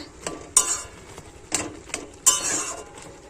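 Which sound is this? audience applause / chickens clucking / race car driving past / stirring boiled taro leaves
stirring boiled taro leaves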